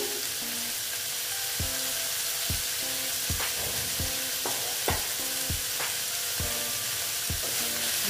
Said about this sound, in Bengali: এটা আমি একটু ভালো মতন ভেজে নেব